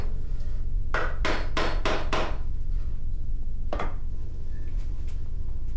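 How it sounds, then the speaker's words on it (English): A hammer knocks on a wooden joint of a pool table under construction five times in quick succession, then once more after a pause, close and sharp over a steady background noise. "A few taps with the hammer seats the joint."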